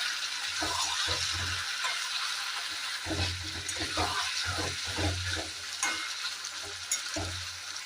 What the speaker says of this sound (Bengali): আর কিছুক্ষণ কষাবো